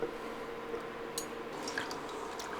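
Cornflour slurry poured into a vegetable pasty filling gives a faint, soft liquid trickle and a few light drips, quiet and close, with no talking.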